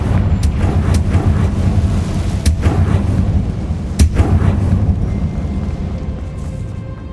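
Confringo blasting spell from Hogwarts Legacy detonating as a couple of sharp, booming blasts over a steady low rumble of game ambience, with no talking.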